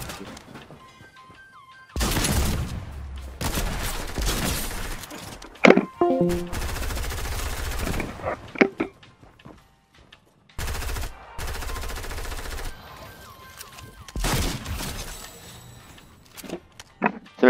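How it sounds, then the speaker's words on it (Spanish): Video game gunfire, many shots: loud bursts of automatic fire and single shots in several long volleys, separated by quieter gaps, with occasional crashes and footsteps. "Muchos disparos."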